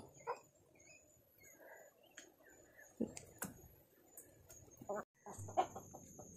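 A hen scratching in dusty ground gives faint, scattered clucks among soft rustling and pecking sounds, nearby but quiet.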